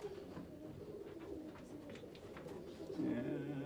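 Domestic pigeons coo in a loft, several low rolling calls overlapping through the stretch, with a louder close coo near the end and faint voices in the background.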